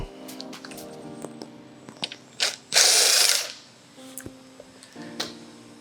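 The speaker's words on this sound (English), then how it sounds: "To remove the seat, there are two bolts, one on each side, 12mm head. We're going to screw those out." A ratchet wrench backs out 12mm seat bolts on an SG250 custom motorcycle, giving close, crisp clicking pawl strokes in short runs, with one longer loud ratcheting burst in the middle.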